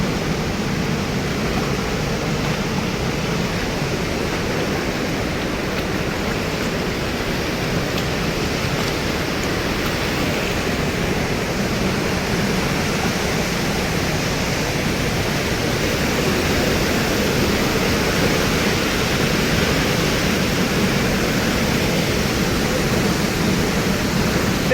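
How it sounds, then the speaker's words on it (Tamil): Water rushes at Hogenakkal Falls in heavy flow, a loud, steady roar of broadband spray and torrent sustained without a break for the whole stretch. "செம்மையாக தண்ணி வந்துட்டு இருக்கு இந்த டைமில்."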